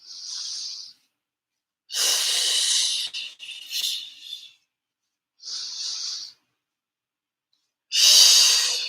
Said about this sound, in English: So just keep deep breathing here.